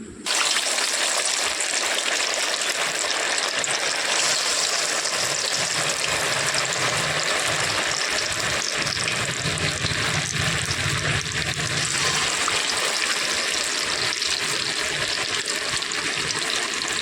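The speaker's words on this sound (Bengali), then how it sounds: "ঘোল ঝরিয়ে তুলে কড়াইয়ের গরম তেলে দিয়ে দেব।" Batter-dipped raw potato snacks frying in hot oil in a wok, a loud constant sizzle and bubbling that swells briefly partway through, with no talk.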